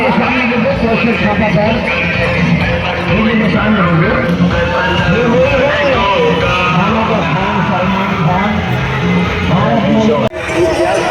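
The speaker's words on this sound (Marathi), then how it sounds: "खूप इथे गर्दी आहे आणि खूप आवाज आहे आजूबाजूला" The crowd at the Pusegaon yatra fair makes a dense, loud, continuous hubbub of overlapping voices and tonal noise, with a single voice talking close up above it.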